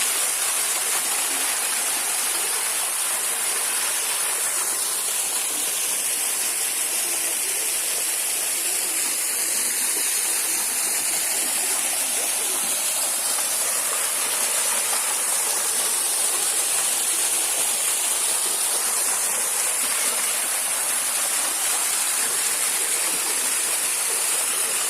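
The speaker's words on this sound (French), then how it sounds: "Et voilà la cascade magique." Waterfall in the Auvergne countryside, a steady, loud, broadband rush of falling water that continues without a break for the whole stretch, with no voices.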